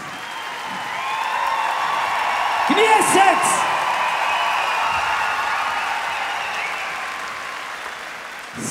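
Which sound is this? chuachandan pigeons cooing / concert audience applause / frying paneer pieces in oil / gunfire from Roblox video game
concert audience applause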